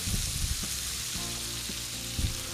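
Garlic tossed into a hot pan with butter and olive oil while cooking pheasant, a loud continuous sizzle close up with a few low thumps and bumps from the pan.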